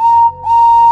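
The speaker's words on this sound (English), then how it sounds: "did you hear that whistle?" A locomotive whistle sounds loud and close as a steady, pure tone that briefly dips and then holds strongly to the end.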